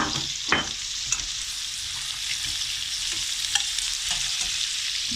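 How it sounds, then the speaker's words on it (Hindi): Onions and chicken liver fry in a hot pan with a spoonful of dried coriander, a constant close sizzle with a few louder stirring scrapes and no voices. "ये मेरा प्याज फ्राई हो रहा है"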